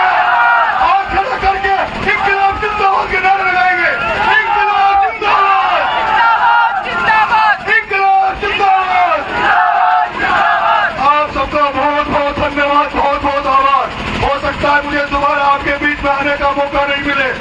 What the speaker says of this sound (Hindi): खड़ा करके इनकलाब जिंदाबाद के नारे लगाएंगे, इनकलाब जिंदाबाद